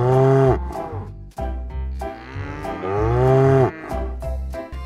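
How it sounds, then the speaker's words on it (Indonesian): Dairy cow mooing loudly and close, several long drawn-out lowing calls in a row with brief pauses between them, heard alone without talk. "ternyata ini sapi perah"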